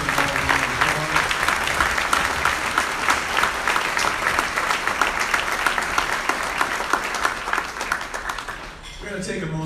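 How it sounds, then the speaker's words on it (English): The crowd at a valor awards ceremony claps in loud, sustained applause for several seconds before a voice starts speaking near the end. "Give them all a round of applause."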